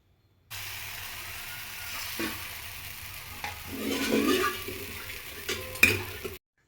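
Millet dosa batter sizzles on a hot griddle with ghee, oil or butter, a steady close hiss that swells in the middle, with a few utensil scrapes and clinks.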